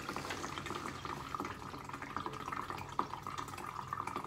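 Water gurgles and trickles as a micro siphon drains an aquaponics grow bed in a small educational kit, a faint, continuous bubbling flow with small splashes, no voices.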